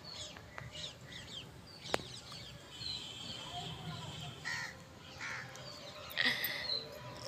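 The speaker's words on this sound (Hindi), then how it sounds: "शाम में कितना अच्छा लगता है ना, चिड़िया की चहचहाने की आवाज़" Birds call and chirp in the evening over steady outdoor ambience, with a few harsher caw-like calls and bright high chirps scattered throughout.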